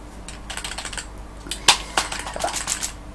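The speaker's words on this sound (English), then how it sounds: "And this keyboard really sucks." Typing on a computer keyboard, a run of irregular close key clicks with a few sharper louder strikes, no voices.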